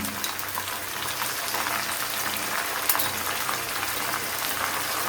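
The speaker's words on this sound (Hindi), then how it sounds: "अब हम इसमें अदरक लहसुन का पेस्ट जो है तकरीबन 2 खाने के चम्मच वो हम इसमें शामिल करेंगे" Ginger garlic paste fries in a pot of beef bones yakhni pulao, giving a dense, even hiss like light rain, with small scattered pops and no talking.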